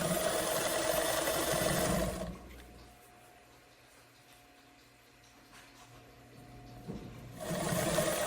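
A domestic sewing machine edge-stitches a waistband on wide-leg trousers, running in a loud steady whir for about two seconds, stopping for a quiet pause, then starting again at the end.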